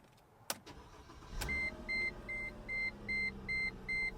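A car at an auto auction cranks briefly, then an engine settles into a quiet idle while a dashboard chime beeps in a steady repeating pattern, with a couple of sharp clicks before ignition.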